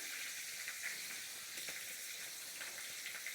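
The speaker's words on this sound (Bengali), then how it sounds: "মাছটা ভাজা হোক" Magur catfish sizzles in hot oil for a Bengal-style ginger catfish curry, a steady, close frying hiss with small crackles and no talking.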